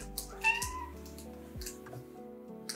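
A house cat gives a short, faint meow partway through, set against a soft hum of background sounds and a low murmur in a quiet room.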